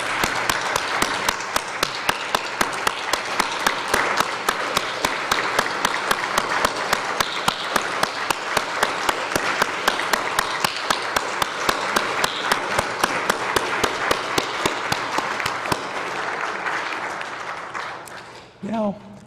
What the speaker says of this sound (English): Let's have a round of applause for Kathy.